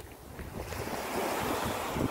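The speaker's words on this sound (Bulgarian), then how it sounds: "Много приятни вълни" Sea waves wash against a rocky karst shoreline in August, a continuous rushing surf that swells louder toward the end, mixed with wind buffeting the microphone.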